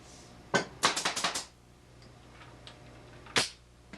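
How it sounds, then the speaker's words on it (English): Pneumatic nail gun fires into the side of a wooden dresser: one sharp shot, then a quick burst of five, and a final shot after a pause, loud and close with no talk. "Move my glue out of the way and nail her on."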